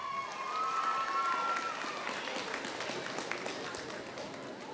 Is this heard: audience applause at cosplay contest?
yes